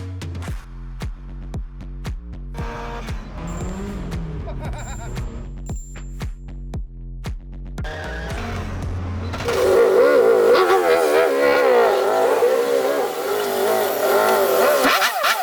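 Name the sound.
Nissan SR20DE engine running in Datsun 510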